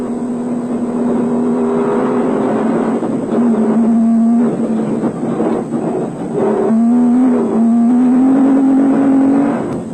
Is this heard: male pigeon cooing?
no